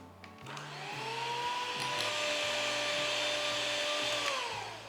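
An electric mixer whips cream to soft peaks for egg-based vanilla ice cream: a close, steady motor whine that rises, holds for several seconds, then eases off.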